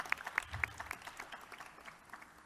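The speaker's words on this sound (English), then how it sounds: "Let's give the Radio City Music Hall a round of applause" Scattered applause from a seated audience inside Radio City Music Hall during a governor's news conference, a few sharp nearby claps over a faint, thin spread of clapping that quickly tapers away.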